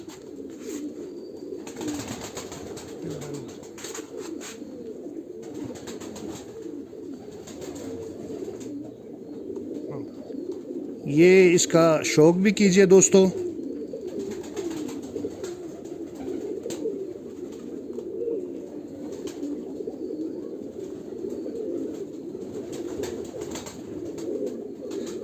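A pigeon coos in a low, continuous rolling murmur close up, with a louder flurry of calls midway, while someone talks softly over it.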